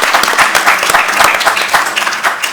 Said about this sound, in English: round of applause one more time for our presenters